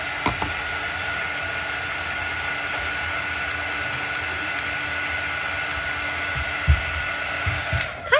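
Steady, loud hair dryer blowing continuously over chalk paste transfers to dry them for a Chalk Couture beehive project, with a few light knocks near the end and no talking.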